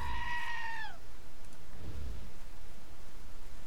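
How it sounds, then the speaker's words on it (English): Goat bleating in a video game, a single clear wavering bleat lasting about a second, followed by quiet low rumbling ambience. "there are two more goats here."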